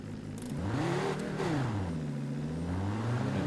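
Car engine in the game Drive Beyond Horizons cranking over and slowly coming to life, its pitch rising and dipping in a sluggish, wavering rev before settling into a low steady hum.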